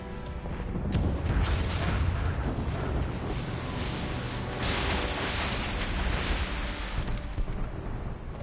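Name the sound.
ship cannon fire in video game Assassin's Creed Rogue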